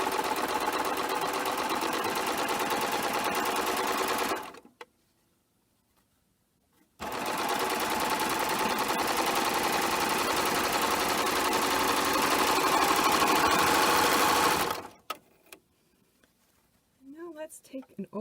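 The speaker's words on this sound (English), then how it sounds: "I'm going to go ahead and serge 1 more seam." A serger sews a flatlock seam joining quilt pieces, running in two long, fast, even bursts of rapid mechanical stitching with a short silent pause between, close up, followed by a brief moment of speech at the end.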